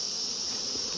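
Honey bees swarm around an open wooden hive, a dense, steady high-pitched buzz close by with no break.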